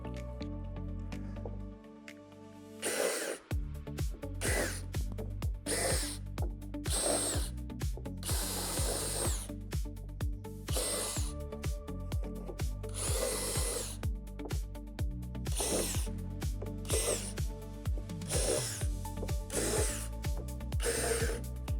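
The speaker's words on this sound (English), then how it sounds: "drill out the 12 divots with a 1/4 inch drill bit" A power drill with a 1/4 inch bit whirs in repeated bursts, starting and stopping as it bores out divots in a plastic playset panel, with brief pauses between each hole; close and fairly loud.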